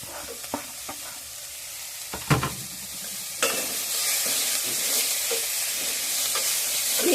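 Chopped spring onion greens are stirred into a frying pan for a sabzi, with a few scraping knocks of the spoon at first, then a steady, close, continuous sizzle with no talking.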